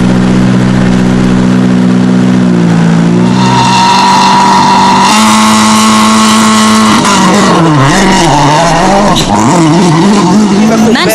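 A WRC rally car on a snowy stage in Sweden at about -15 degrees revs loudly and close, its engine note climbing in steps through the gears, then wavering and surging again as it accelerates.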